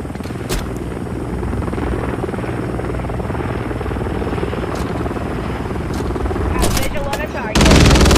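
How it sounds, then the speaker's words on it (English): A helicopter in Modern Warfare 3 multiplayer thrums loudly and continuously with rotor chop, joined by bursts of gunfire and a surge of noise near the end, while a voice speaks over it. "Man's got the chopper straight away"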